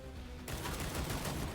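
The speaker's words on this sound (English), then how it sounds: "You'll hear the gunfire, but I don't really care." Rapid gunfire bursts from the Cyber Knights: Flashpoint tactical video game start abruptly partway in, then rattle on in a dense, continuous volley of shots.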